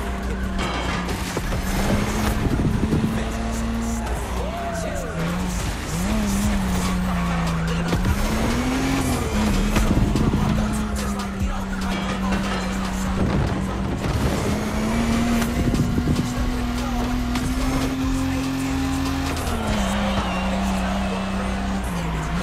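Car driving in The Crew Motorfest video game, a donk versus lowrider showdown, with a loud steady engine drone, shifting revs and bursts of tire squeal and crowd noise throughout, while people talk over it.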